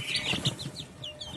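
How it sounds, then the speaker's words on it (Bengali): Young desi chicken chicks feed and peep softly, a run of quick high chirps repeating close by at low volume with a little scratching underneath. "দেখো আমার মুরগি বাচ্চা সব খাবার খাচ্ছে।"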